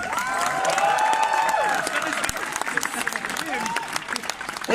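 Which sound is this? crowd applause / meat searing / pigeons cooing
crowd applause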